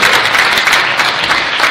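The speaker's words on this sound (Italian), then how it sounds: "Salutiamo l'avvocato Risi con un applauso." A theatre audience greets the mayor of Nardò with loud, close applause, a continuous rush of many hands clapping throughout the short stretch with no talk.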